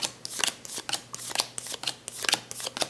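A deck of belote playing cards is shuffled close by, producing a quick series of soft riffling, slapping bursts with no talking.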